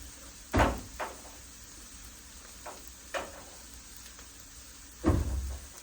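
A kitchen pantry cupboard door in a home kitchen opens and shuts in a few sharp knocks and clunks, with a louder thud near the end, heard close and alone during noodle cooking.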